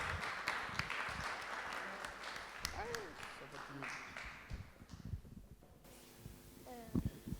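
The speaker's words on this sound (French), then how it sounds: "Est-ce qu'on peut applaudir pour Evan?" A church audience applauds in scattered, uneven clapping, with voices and chatter mixed in as the clapping thins toward the end.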